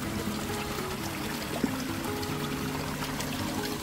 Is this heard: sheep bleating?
no